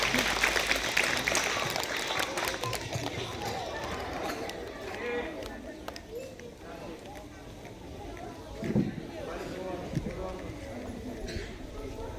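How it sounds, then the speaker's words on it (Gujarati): Crowd applause welcomes schoolchildren to a play at a primary school's Republic Day celebration: a dense, steady clatter of many hands, strongest at the start, with voices mixed in throughout. "તાળીઓના ગડગડાટથી આપણે બાળકોને આવકારીએ"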